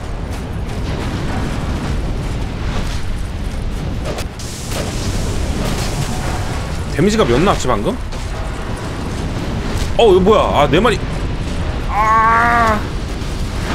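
Explosions in Dark Souls 2: Scholar of the First Sin roll out as deep, rumbling booms over a constant low game din, while someone talks intermittently over them.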